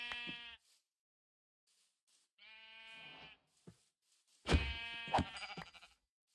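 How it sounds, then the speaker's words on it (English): Sheep in Minecraft bleat three times in a row, nasal wavering calls with pauses between them, the last one louder and more ragged, heard alone without speech. "Black sheep, have you any wool?"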